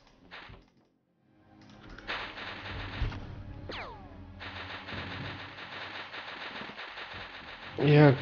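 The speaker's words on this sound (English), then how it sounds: "shoot this zombie here" Gunfire from the turn-based video game XCOM Files as a soldier shoots a zombie, dense bursts of rapid shots layered over game music and effects, with a louder burst near the end.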